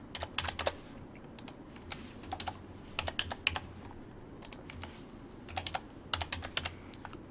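Someone types a model number on a computer keyboard, quick clustered bursts of crisp key clicks separated by short pauses, close and moderately quiet, with no talk.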